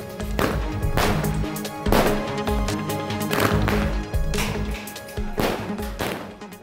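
Firecrackers and fireworks burst repeatedly at a night-time celebration by political party supporters, with sharp cracks and booms arriving in irregular close clusters over a dense, loud din.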